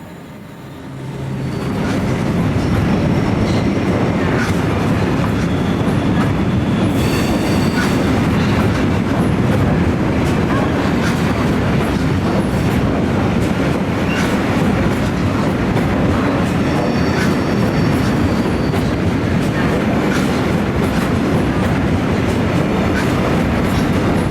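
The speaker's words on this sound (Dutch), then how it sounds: "mooi op tijd vertrekt de trein 327" A GoVolta passenger train departs and rumbles and clatters steadily past at close range, wheels clicking over rail joints, loud and continuous after a brief quiet start.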